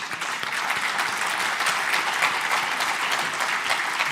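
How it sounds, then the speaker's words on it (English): A conference audience at a sustainable tourism event in Estonia claps for a port agreement signing between Tallinn and Helsinki, a steady, even round of applause at moderate distance with no talk over it. "they deserve a round of applause for signing"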